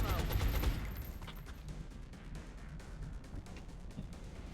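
Suppression fire in the XCOM Long War video game: a loud opening burst of gunfire followed by a steady rattle of rapid shots and crackling impacts that runs throughout, with no talking.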